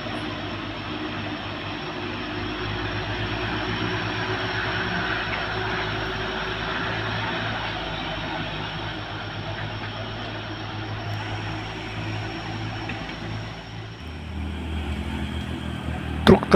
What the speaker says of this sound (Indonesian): Dua truk Puso Tronton konvoy menanjak di tikungan